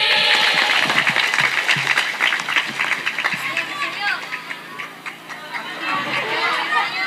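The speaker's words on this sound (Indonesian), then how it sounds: "Tepuk tangan dulu untuk Ramadhani." A crowd at an Islamic religious gathering claps loosely amid lively chatter and overlapping voices, the clapping uneven and fading in and out under the talk.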